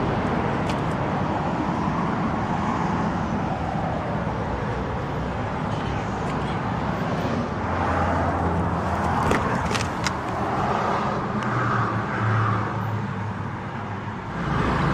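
A 1949 Dodge Coronet with Gyro-Matic transmission idles steadily after starting, a low continuous engine rumble heard up close with light clicks and rattles over it.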